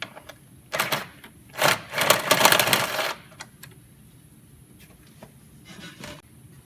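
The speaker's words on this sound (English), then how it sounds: "Take a 10mm wrench and get this last bolt." A 10mm wrench ratchets on bolts during an AFM lifter job on a GM truck engine, giving a close run of rapid clicking bursts followed by a few scattered metallic taps.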